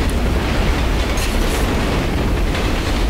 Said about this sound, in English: Riding a train like a boss.